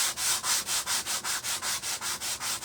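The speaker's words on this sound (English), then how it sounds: "just give this a little bit of a sanding" Steady back-and-forth sanding strokes on a pumpkin surface, rhythmic and close, about five rubs per second with no talking.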